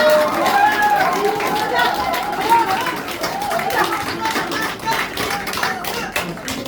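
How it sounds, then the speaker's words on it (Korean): A crowd claps as a candidate steps up at a campaign wind-down gathering in Yeouido, dense continuous clapping mixed with loud crowd chatter and voices throughout. "나오실 때 박수 부탁드립니다"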